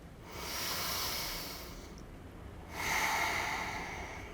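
During a slow grounding yoga flow, soft, close breath hisses in a long exhale, then after a brief pause a louder, airier breath through the nose.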